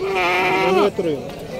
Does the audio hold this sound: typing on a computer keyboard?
no